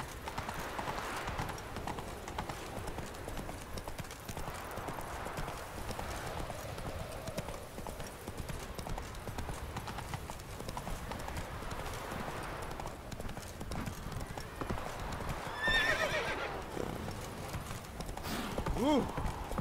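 Roach, a horse in The Witcher 3, gallops steadily with dense rhythmic hoofbeats under a constant game soundscape, with a voice speaking now and then.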